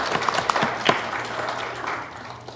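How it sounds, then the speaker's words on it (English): A church congregation applauds warmly at a Unitarian ingathering and water ceremony, a dense, steady patter of many hands clapping that fades slightly toward the end. "We'd like to applaud the work and efforts of Susie Marcus, who put together the new website."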